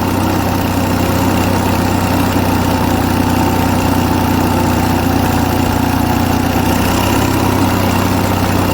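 An Onan US military generator engine runs steadily at about 1800 RPM, a loud, close, continuous droning hum with even vibration and no pauses.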